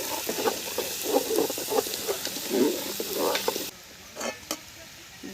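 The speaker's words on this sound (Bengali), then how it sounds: "ব্রোকলি ভাজা হয়ে গেছে" Broccoli fries in a pan with turmeric and salt, a steady sizzle with bursts of stirring and scraping. The sizzle drops away abruptly, leaving a few isolated clicks and stirs.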